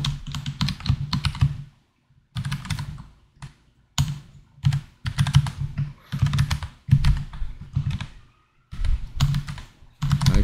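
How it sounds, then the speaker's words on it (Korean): Bursts of rapid typing on a computer keyboard, dense clattering keystrokes in several runs separated by short pauses, close and fairly loud. "키보드로 바꿨더니"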